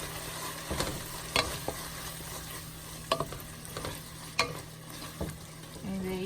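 Ingredients for chicken and shrimp alfredo are stirred in a frying pan, with soft sizzling underneath and a handful of sharp utensil scrapes and clicks against the pan at irregular intervals, close and fairly quiet.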